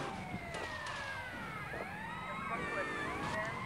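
A stolen police car's siren wailing in GTA Vice City, rising and falling in sweeping tones over steady engine and road noise, with game sounds clattering through the mix.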